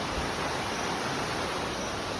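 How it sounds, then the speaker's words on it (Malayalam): Steady broadband rush of the Kokkathodu stream in Pathanamthitta flowing continuously, a constant close wash of water with no voices over it. "നമ്മുടെ കൊക്കത്തോട് തോടാണ്"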